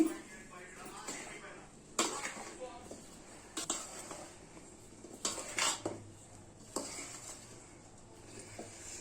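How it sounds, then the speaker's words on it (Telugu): A spoon mixes homemade amla (nelli kaya) pickle in a container, producing irregular bursts of metallic scraping and clinking while a voice talks. "ఇలా మొత్తం కింది నుంచి బాగా కలుపుకోవాలండి"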